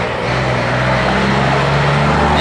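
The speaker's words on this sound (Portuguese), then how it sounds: "escapamento diretão, hein?" A Scania R420 truck with a straight-pipe exhaust and a turbo modification rumbles steadily at a low idle, a deep continuous drone that is loud and close, without talk.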